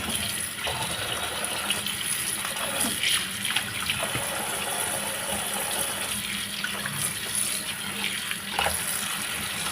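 Water runs steadily from a tap while fresh beans are washed, a continuous close splashing gush that lasts throughout with slight swells, and no voices.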